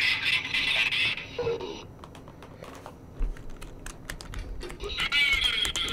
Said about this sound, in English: See, your keyboard's so loud on his side.